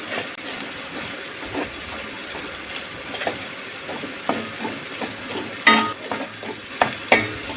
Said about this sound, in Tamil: எல்லாம் அந்த பச்சை வாடை போகிற வரைக்கும் வதக்கணும்